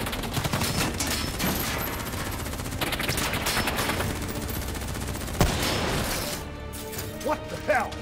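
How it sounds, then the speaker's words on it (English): Heavy gunfire in Call of Duty Black Ops III, a sustained rattle of automatic weapons and impacts under shouted dialogue, easing off toward the end. "Who's shooting?"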